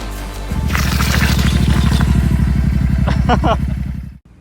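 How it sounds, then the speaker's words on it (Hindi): A Royal Enfield Super Meteor 650 motorcycle with performance modifications cranks and fires up, then idles with a loud, steady rapid thumping, voices briefly audible over it before it cuts off. "अब आपको बाइक स्टार्ट करके दिखाते हैं कि इसकी साउंड कैसी है"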